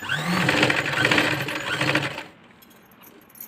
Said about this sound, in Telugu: డబల్ స్టిచ్ వేసుకోండి